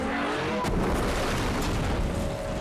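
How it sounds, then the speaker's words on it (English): A deep, rumbling boom erupts suddenly and rolls on, a loud film-set explosion during a car chase scene for Terminator: Dark Fate, whose low roar fills the rest of the moment. "We have big explosions."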